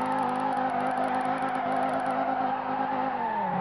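An upgraded ACR Viper in Assoluto Racing drifts with its engine droning at high, steady revs as the spinning wheels screech continuously, the pitch dipping slightly near the end.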